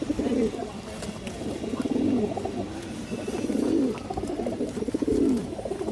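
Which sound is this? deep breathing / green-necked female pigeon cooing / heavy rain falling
green-necked female pigeon cooing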